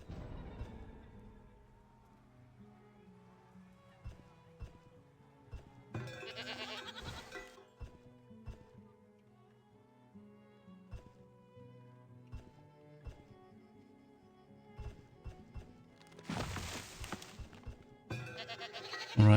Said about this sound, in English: Alright, but we've got our first 2 goats.